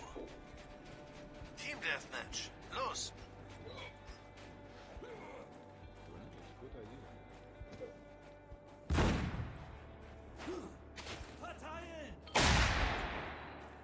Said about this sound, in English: watch me throw the grenade